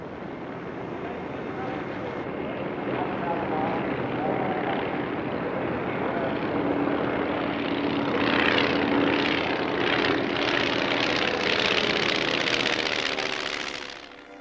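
A fixed-undercarriage, all-metal Ryan propeller plane flies past at a military airshow, its droning engine swelling as it nears and then fading, with a commentator's voice over the top.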